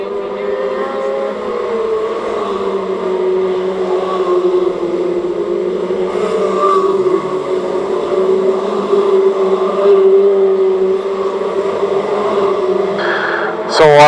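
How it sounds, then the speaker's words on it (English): Stock rod race cars drone around an oval track at a race meeting, a steady blended engine roar with passing cars swelling and fading, and a sharper burst near the end. "So the lead cars come through the back marking traffic."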